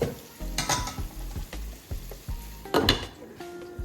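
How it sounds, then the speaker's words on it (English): Curry beef ribs stirred in a pot, a spoon scraping and clanking through the thick mixture in several uneven strokes, with a soft sizzle underneath, close and fairly quiet, no talking. "I'm stirring it again"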